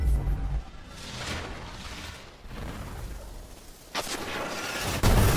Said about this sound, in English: Fantastic shot of rockets well ahead of me